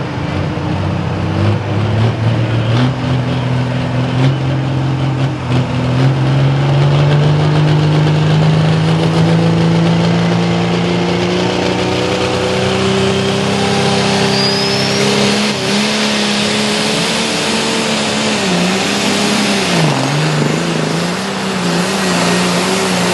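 A New Holland T7 270 tractor engine revs loud and close at an auction, its pitch climbing steadily as it accelerates, then holding and dipping near the end, with no talk over it.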